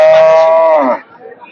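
A pregnant dairy cow at the Hazratpur cattle market in Keraniganj gives a single loud, close moo that lasts about a second and then stops.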